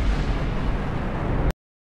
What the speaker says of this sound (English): The Milan anti-tank missile.